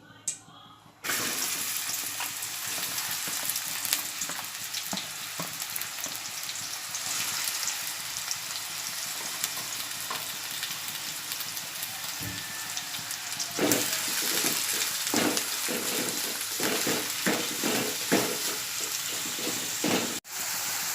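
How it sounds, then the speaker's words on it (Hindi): Chopped onions hit hot oil for a Konkani jackfruit bhaji, setting off a loud, steady broadband sizzle that runs throughout, with a few scraping stirs toward the end. "अब ये तेल गरम हो गया है, मैं इसमें प्याज, कटी हुई प्याज डालूंगी।"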